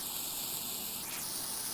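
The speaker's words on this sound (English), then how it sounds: "That's the sound of the eggs transferring from one pallet to another." Eggs transferring between pallets in Farming Simulator 19, a steady soft hiss like static or spray running throughout, faint and uniform, with no talk.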